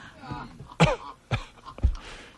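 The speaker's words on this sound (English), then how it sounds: "Want me to cough?" A few short, harsh coughs come in quick succession, close and loud, with a bit of throat clearing between them.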